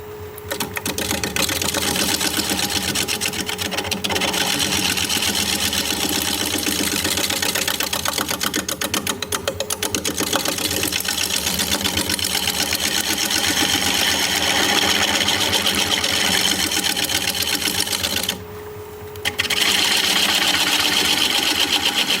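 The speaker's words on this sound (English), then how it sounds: "I'm going to try a little shear scraping on the side here." Shear scraping on a wood lathe cutting into a spinning piece of driftwood, a steady loud buzzing, rattling drone that runs continuously with a short dip near the end.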